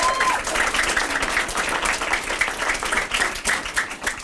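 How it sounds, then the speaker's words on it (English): A crowd of students and community members claps at a youth book event, a dense, steady round of applause that holds for several seconds with some voices in the mix. "Give them a round of applause."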